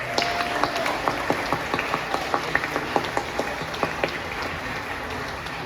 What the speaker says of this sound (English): Give another round of applause for them one more time.